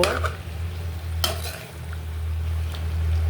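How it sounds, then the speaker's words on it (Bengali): Flat beans being stirred into a cooked spice masala in a pan, with a steady low sizzle and occasional scrapes and clinks of a spoon against the metal. "এখানে সব কিছু ভালো করে মিশিয়ে নেব"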